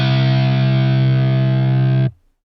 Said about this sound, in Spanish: El primero es la distorsión.